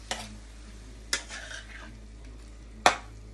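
Saltfish sizzles in a pan for a Jamaican breakfast, a quiet frying hiss broken by three sharp metallic clanks of a utensil against the pot.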